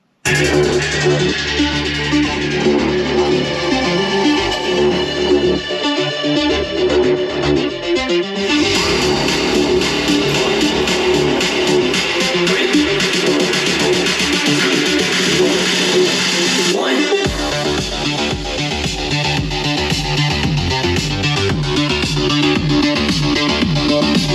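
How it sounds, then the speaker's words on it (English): Loud electronic techno music with a driving beat and synth lines plays continuously through a replacement front door speaker in a Lexus GX470, slightly boxy and distorted. "electronic, like, techno music that should give you an idea of you know, how the mid-range sounds and some bass"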